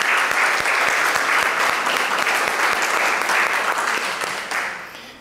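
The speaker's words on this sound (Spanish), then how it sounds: "Un aplauso para ella." Steady, dense applause from an audience at a book presentation, loud and even for about four seconds before tapering off toward the end.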